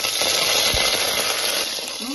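Curry leaves and green chilli crackle and sizzle in hot oil with fenugreek for a Tamil radish kuzhambu, a steady, dense hiss that holds evenly throughout.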